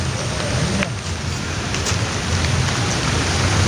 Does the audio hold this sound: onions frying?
no